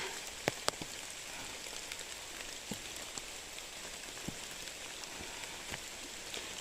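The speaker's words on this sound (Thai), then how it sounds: "ฝนตกค่ะ" Rain falls on a mountain trail at Khao Luang in Sukhothai, a steady soft hiss with scattered close drips and taps, no voices.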